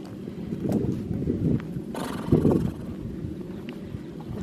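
A horse snorts and whinnies nearby in a couple of short bursts, with faint outdoor background noise between them.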